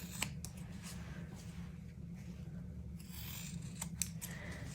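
Scissors snip the corners off thermoplastic orthosis material for a CMC splint. A few faint, sharp cuts sound close by over a low background hum.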